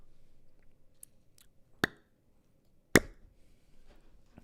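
A voice imitates a pop sound effect for a game's popping orb: two sharp, close mouth pops about a second apart, crisp and brief, with faint clicks before them and near silence around.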